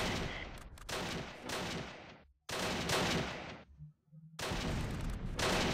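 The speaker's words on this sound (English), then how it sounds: "Mortars, and they're shooting at me" Enemy mortar and gunfire in the WWII game Close Combat: The Longest Day, heard as loud, dense bursts of automatic fire that break off abruptly, with short lulls holding faint low thuds between volleys.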